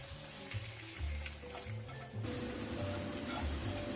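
Guanciale, a very fatty pork, gently sizzling and rendering in a dry pan without oil, a soft continuous crackle under steady background music.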